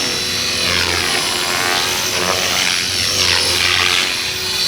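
A GARTT 450L RC helicopter, bought secondhand, flying close by with a loud, steady whining rotor and motor drone that rises and falls slightly as it maneuvers.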